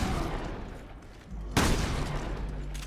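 A single heavy shotgun blast booms out in a video game after a stretch of quieter background rumble, hitting abruptly and close, then a lingering low echo.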